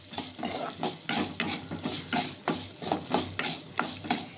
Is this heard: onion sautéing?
yes